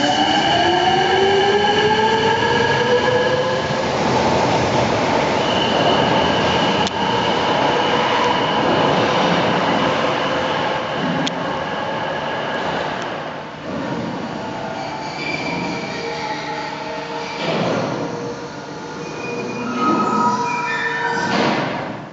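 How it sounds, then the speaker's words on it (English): A train is switched onto a new track at Sapporo Station, Japan: sustained rolling rumble with rising wheel squeals early on, steady clatter and occasional thuds as the cars pass close by, no voices. "a few small rail adjustments are all it takes to shift an entire train in a new direction"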